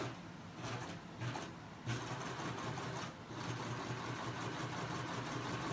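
A serger sewing machine runs a test stitch, forming a thread chain for jewelry, with a steady close motor hum and a few brief dips where it pauses and restarts.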